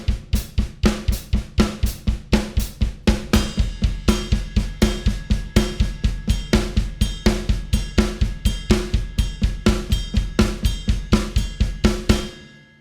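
A fast, even drum roll with the kick drum played straight and unaccented, a steady stream of close, loud strokes at a constant pace for about twelve seconds, then stopping.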